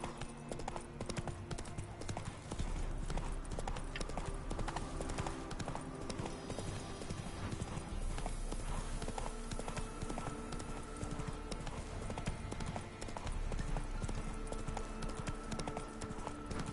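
Horse hooves gallop in The Witcher 3: Wild Hunt on PS5 with a loud, rapid, steady clip-clop that runs the whole way through over dense game ambience, with a voice calling out now and then.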